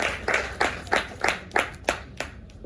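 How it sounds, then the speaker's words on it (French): Single person or small group claps by hand at a French-language panel event, eight or nine distinct, evenly spaced claps, fairly close and moderately quiet, fading toward the end. "Si vous pouvez l'applaudir, s'il vous plaît."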